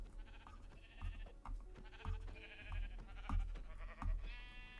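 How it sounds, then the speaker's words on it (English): Sheep in the Minecraft video game bleat several times in a row, moderately loud and close, with no talking. "There's all the sheep I need, and there's a couple extra."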